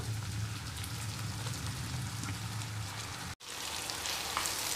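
Chilli paste for pickle frying in a pan makes a dense, continuous sizzle like steady rain, loud and close. A brief dropout breaks it near the end, then the hiss resumes, with no voices.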